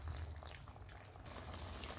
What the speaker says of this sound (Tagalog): kumukulo na yung ating chicken and let it boil for 15 to 20 minutes to become tender